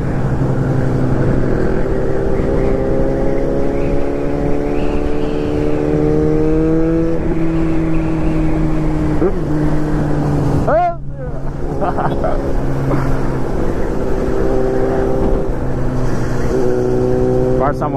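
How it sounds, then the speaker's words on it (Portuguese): A group of motorcycles rides out on an ecotourism tour, engines droning loudly and revving through rising and falling pitches as bikes pass close by, with a voice talking over the steady roar. "Olha as motos aí."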